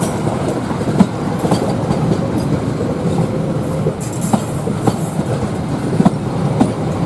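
An Argo Parahyangan passenger train running from Bandung to Gambir rolls past at close range, a loud continuous rumble with rhythmic clickety-clack wheel beats on the rails throughout.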